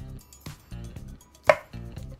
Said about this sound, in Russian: Сыр моцарелла бывает разный, но я сделал вот так вот и тоненькими пластами вот так вот нарежу.